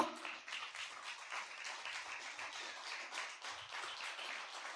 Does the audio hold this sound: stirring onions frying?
no